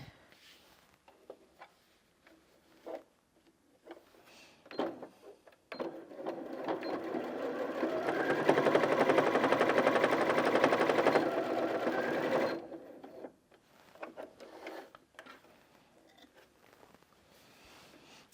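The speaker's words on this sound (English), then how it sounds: "we'll double that over and sew through 4 layers" A Janome Sewist 740DC sewing machine stitches through four layers of folded fabric in one continuous rapid mechanical whirr of several seconds, framed by quieter handling clicks and rustles before and after.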